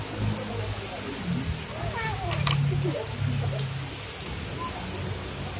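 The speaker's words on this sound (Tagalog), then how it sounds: "May pusa kasi akong kasama dito." A cat meows a few times amid soft background noise, while a person talks nearby.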